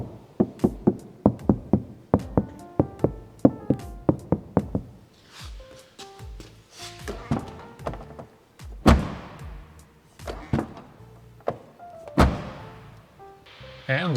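A quick string of duller, damped knocks on an Audi A4 door lined with sound deadening material, followed by slower, irregular thuds and taps, close up and with no voices.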